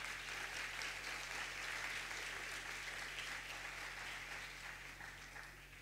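An audience at a conference on psychoanalytic techniques applauds with steady, dense clapping that holds for about six seconds and fades slightly at the end.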